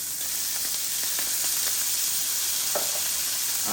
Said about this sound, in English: So as our meat browns and we start seeing those brown bits accumulate in the pan